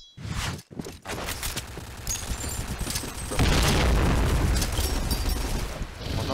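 A bomb explosion in Point Blank, a broad roaring blast with crackling bursts that builds and stays loud and sustained after a brief gap near the start.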